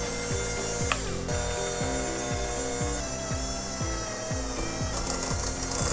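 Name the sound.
electric mixer mixing sugar and butter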